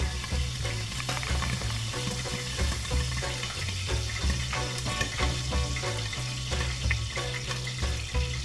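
Smoked sausages frying in a pan alongside Taiwanese spinach, a steady close sizzle and crackle with occasional stirring clicks throughout.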